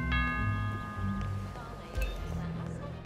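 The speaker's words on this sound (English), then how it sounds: "Let's actually ring the doorbell here" Doorbell rung in the stealth video game Hitman 2, a bright multi-note chime opening the moment and decaying over a low background hum with faint game ambience.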